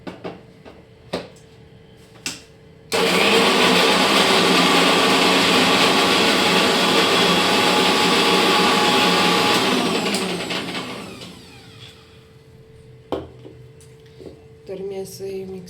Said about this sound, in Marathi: तर आता मी हे मिक्सरमधून फिरवून येते बरं का, बारीक करून येते